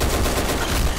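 A CZ Bren M2 rifle in the shooter game Black Squad fires a sustained burst of rapid automatic gunfire that fills the whole moment, loud and dense with no pauses.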